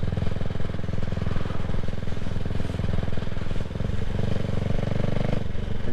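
A CCM Spitfire Six motorcycle rides through a village, its engine producing a steady, dense throb with a busy mechanical rattle that runs loud and unbroken throughout.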